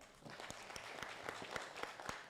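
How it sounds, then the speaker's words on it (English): An audience at an African academic conference claps, a faint, rhythmic patter of several people clapping together in a regular beat, heard from a distance. "You want to clap for him more?"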